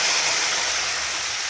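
Whole fish going into hot oil with a torn bay leaf and a dried red chili, giving a loud, steady, dense sizzle and spatter that holds at an even level throughout.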